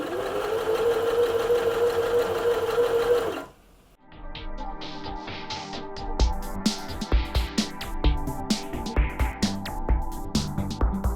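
Sewing machine overcasting fabric for a lavender bag, a fast, continuous whirring stitch run that stops abruptly, followed by irregular clicks and handling knocks of fabric and machine parts.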